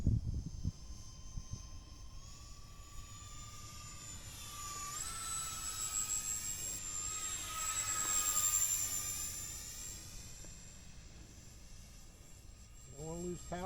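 An E-flite SR-71A Blackbird RC model jet makes a low, fast pass at a flying field, its ducted-fan whine rising and sweeping in pitch as it nears, peaking mid-pass, then fading away.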